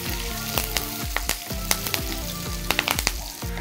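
Curry leaves, three sprigs, fry in hot oil in a pan while making sweet rasam, giving a steady sizzle with sharp crackles and pops scattered throughout.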